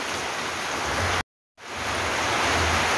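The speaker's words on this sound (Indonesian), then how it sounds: "Dan ini sudah turun hujan" Steady rain falls in a broad, even hiss, loud and close, interrupted by a brief gap of silence before resuming.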